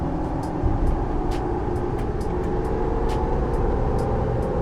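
A tuned 2021 AT4 Duramax diesel truck drives and accelerates, heard from inside as a loud, steady low engine rumble with road noise and a few faint high ticks, and no talking.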